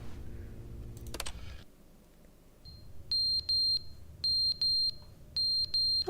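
Smoke alarm in the video game The Stanley Parable chirping in short, repeated high beeps, grouped in pairs and triples, fairly loud and close, following an earlier noisy burst and a brief quiet stretch.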